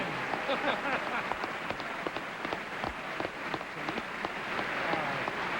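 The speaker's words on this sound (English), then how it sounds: "Curious clapping style the Vice President has." An audience at the 1996 State of the Union address applauds in a steady, dense wash of clapping that carries on throughout without letting up, heard at a moderate distance.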